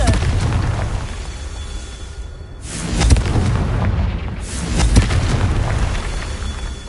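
In Hogwarts Legacy, the Confringo fire spell sets off heavy booming blasts, with two loud swells rising out of a dense, roaring wash of game sound.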